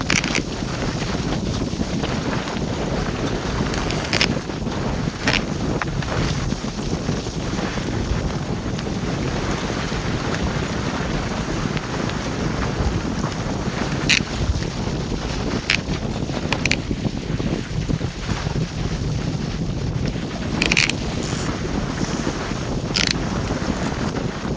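Strong wind roars steadily over a sailboat crossing San Francisco Bay's open water near Sausalito, with broadband gusts, rushing water and occasional creaks and clanks of rigging throughout.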